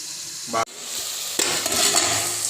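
Chicken curry stirred in a pot with a spoon over a sizzling, frying base, a steady hiss throughout with a brief metallic scrape and clatter of the utensil, close and loud with no talking.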